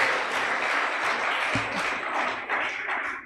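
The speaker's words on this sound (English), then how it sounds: "Clap." Steady audience applause at a conference event, fairly loud and continuous, with a single low thud partway through.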